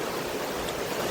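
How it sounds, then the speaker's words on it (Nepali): Steady broadband rush of the Kanchenjunga river flowing near Khambachen, a continuous close wash of water with no breaks and no voices. "यो जुन चाहिँ नदी यहाँ बगिरहेको छ"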